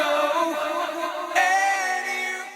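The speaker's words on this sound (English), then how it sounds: "you can hear that tape-like trippy effect going off there in the background" Sung vocal processed through a tape-like, trippy, detuned reversed delay in Guitar Rig, with smeared, wavering echoes washing continuously behind the voice.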